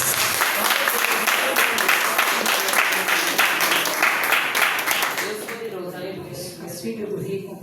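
A church congregation claps steadily and loudly in unison during a Sunday communion service, the applause thinning toward the end as voices carry underneath.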